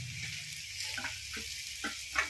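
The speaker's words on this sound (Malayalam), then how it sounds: "അതിലേക്ക് നമുക്ക് ആ പാവയ്ക്കങ്ങ് ഇട്ട് കൊടുക്കാം, വട്ടത്തിലരിഞ്ഞ്." Sliced rounds of bitter gourd sizzle in hot oil in a pan, a soft steady frying hiss broken by a few light scraping stir strokes, quiet and close with no voices.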